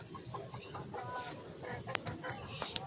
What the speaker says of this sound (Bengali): ওই দেখো তিনখানা মুরগি।